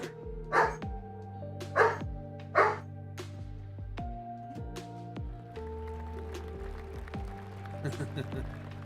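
A dog playing with a toy barks three times in quick succession near the start, then someone talks over softer background noise.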